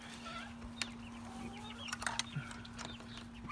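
Chickens and young chicks in a backyard coop give soft, scattered clucks and peeps at moderate distance over a steady low hum, with a few sharper calls bunched near the middle.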